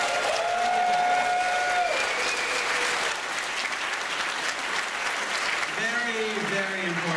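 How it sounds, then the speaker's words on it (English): A banquet crowd at a gaming convention applauds game masters, a sustained wash of clapping with cheers and whoops, while a voice speaks over it at the start and again near the end. "let's have a round of applause for GMs who have killed characters"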